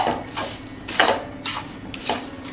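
Utensil scrapes and clinks against a pan as fried edible gum and raisins are stirred into a magaj mixture for Rajasthani magad ladoo, four bursts spaced roughly half a second apart, close and moderately loud.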